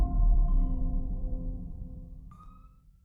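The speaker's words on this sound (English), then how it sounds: "I'm having to listen to this siren right outside my window." A long, steady emergency vehicle siren sounds from outside a window, gradually fading, with a brief higher tone near the end.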